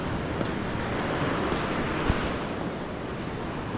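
River at a riverbank, a steady, loud broadband rush of moving water mixed with wind buffeting the microphone, continuous with no speech.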